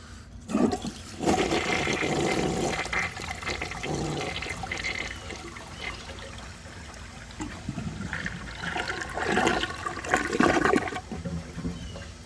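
A 1984 American Standard Cadet toilet flushes a dish towel down, with a loud rushing swirl of water that surges, eases into trickling refill, then surges again, heard up close.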